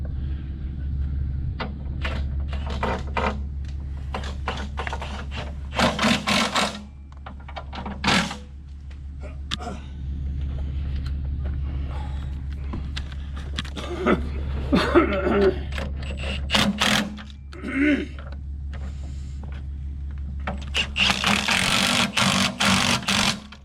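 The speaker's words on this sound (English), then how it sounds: "Chrome socket on an impact, living life on the edge." An impact wrench fitted with a chrome socket tightens a bolt and jam nut in a few loud, rattling bursts over a steady low mechanical hum, with pauses and clunks between them.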